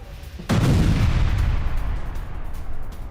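A FAB glide bomb striking a Ukrainian battalion position bursts in with a sudden heavy blast after a brief lull, followed by a long, rumbling low roar that stays loud and slowly churns to the end.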